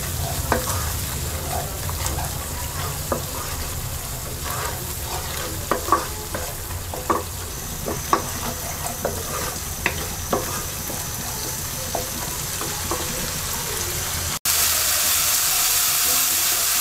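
Tomato-puree masala paste being stirred and fried in a pan, a steady sizzle with scattered scraping clicks of the spoon throughout, then an abrupt shift to a brighter, louder hiss near the end.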